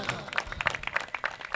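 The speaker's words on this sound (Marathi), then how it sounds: "एकदा जोरदार टाळ्या वाजवा." An audience applauds at a prize ceremony for a cricket tournament, with dense, close, energetic clapping that continues throughout.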